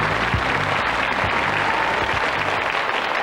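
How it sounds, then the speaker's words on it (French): Studio audience at a French television quiz show applauding, dense continuous clapping at full volume that fills the clip from start to finish, no voices. "Ces applaudissements sont pour vous"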